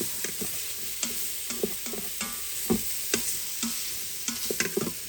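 Mushrooms sizzle in a frying pan, cooking until soft, with a constant hiss broken by sharp utensil scrapes and stirring knocks every half second or so, no voices.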